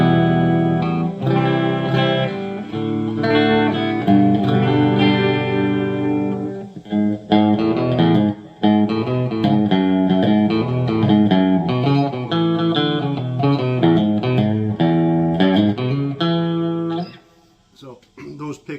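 Clean-channel electric guitar on the bridge pickup of a Hamer Slammer, strummed chords and picked notes ringing loud and steady, then fading out at the end.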